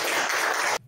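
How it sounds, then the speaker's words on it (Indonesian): Applause from a classroom of pupils fills the room as a dense, steady patter of clapping that stops abruptly near the end, leaving near silence. "Kita berikan lagi tepuk tangan."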